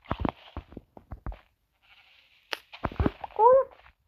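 A sheep in the video game Minecraft gives one short, wavering bleat near the end, following a stretch of scattered talk and clicks from a player.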